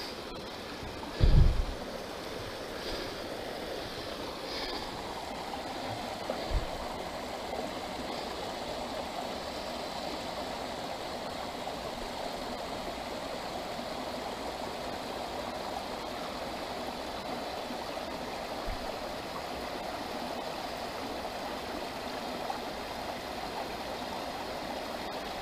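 Water rushing down through rocks at Soleduck Falls in Washington's Olympic National Park, running low, gives a steady, even wash of flowing water that holds constant throughout, with a couple of brief knocks near the start.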